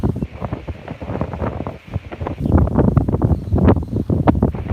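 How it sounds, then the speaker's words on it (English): Gusty wind buffets the microphone outdoors on a rural South Dakota farm in a low, rumbling roar that swells and eases, growing stronger in the second half. "Oh, it's windy out."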